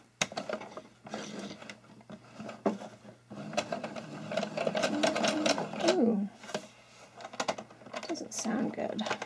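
A home sewing machine stitching the outer circular part of a cloth face mask, running in short bursts and pauses up close, with a person talking quietly over parts of it.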